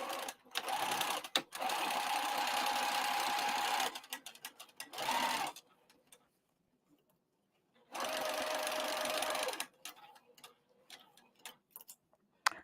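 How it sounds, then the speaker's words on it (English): A sewing machine stitches a side seam of a crossbody bag's lining at a quarter-inch seam allowance, running in three close rapid bursts separated by pauses, with clicks and fabric handling in between. "I'm going to sew down that side, the other side here at 1/4 inch seam allowance"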